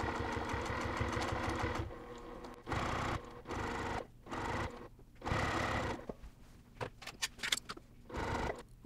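A sewing machine stitches a 1/4 inch seam on a cross-stitch pillow top in several bursts of rapid mechanical whirring, separated by short pauses, close and steady.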